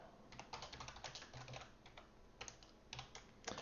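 Quick, quiet clacking of keys on a computer keyboard, an uneven run of light taps and presses heard close and alone.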